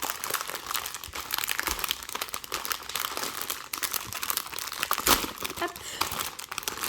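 Continuous crinkling and tearing of plastic wrapping as a LEGO Harry Potter booklet is unwrapped by hand, close and steady for several seconds, with a brief spoken interjection.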